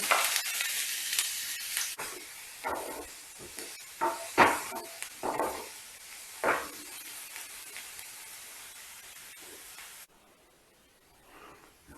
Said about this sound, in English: Let us heat some oil in a pan, preferably olive oil. We'll saute 3 finely chopped medium-sized onions.